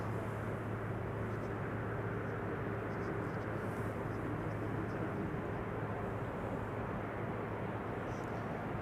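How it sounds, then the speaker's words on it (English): Austrian Airlines A320 arriving from Vienna and landing on runway 36R at Amsterdam Schiphol, a steady broad roar of jet engines that holds loud and constant throughout, with no voices. "Austrian flight 313. That's an A320 arriving from Vienna."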